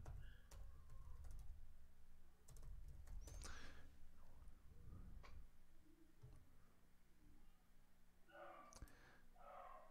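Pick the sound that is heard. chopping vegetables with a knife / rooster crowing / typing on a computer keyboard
typing on a computer keyboard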